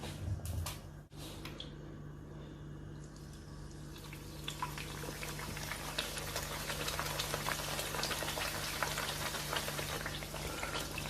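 Pakora naan, a chickpea-batter-coated flatbread, frying in hot oil, giving a steady dense sizzle and bubbling that builds slightly and runs without pause, with no voices.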